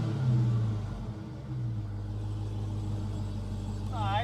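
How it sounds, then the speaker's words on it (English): A car with a muffler delete, seen at a Phoenix-area car auction, gives off a deep, steady exhaust rumble close by, partly under people talking, with a faint whine near the end. "I think it has like a muffler delete."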